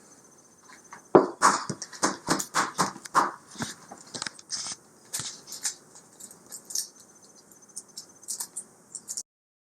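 Shells being peeled off eggs meant for smoking on a Pit Boss pellet grill, producing close, crisp cracking and crinkling crunches in rapid bursts, then sparser scattered crackles.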